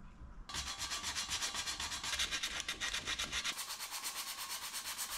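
Sandpaper rubbing Bondo body filler on curbed alloy car wheels, a steady rhythmic back-and-forth scrubbing that starts abruptly and continues loud and close for several seconds, with no voices.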